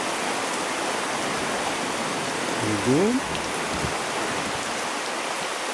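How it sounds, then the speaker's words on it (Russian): Heavy rain falls in a steady, dense downpour on a stormy evening by a fireplace, a loud constant hiss all the way through, with a brief spoken word from a man partway in. "пока не кончится ливень этот"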